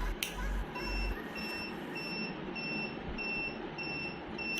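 A methane gas alarm on an IoT smart miner helmet beeps in a steady series of short, evenly spaced high tones over a constant noisy background with occasional low thumps.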